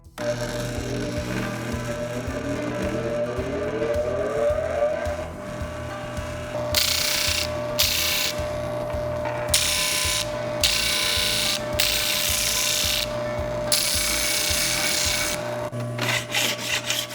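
A 12-inch disc sander runs with a steady motor hum, then sands a metal part in several loud, harsh grinding bursts separated by short pauses, up close with no talking.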